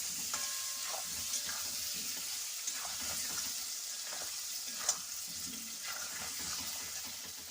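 Potatoes frying with turmeric powder in a pan for a Bengali-style alu dom produce a constant close sizzle, with recurring spatula scrapes and stirring taps and one sharper knock, and no talking.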